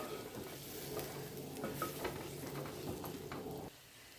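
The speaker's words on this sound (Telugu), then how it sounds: "ఇది మసాలా అంతా కూడా ఈ రొయ్యలకి పట్టేలా వే మిక్స్ చేసుకుందాం" Prawns are stirred into masala in a pan, with a steady low sizzle and soft scraping that continues throughout before abruptly dropping in level near the end, with no talking.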